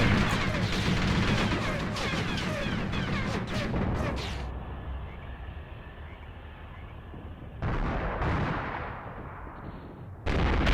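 Gunfire rattles and booms in the Graviteam Tactics: Mius Front war game, dense bursts of loud shots and impacts that drop to a rumbling lull before erupting again.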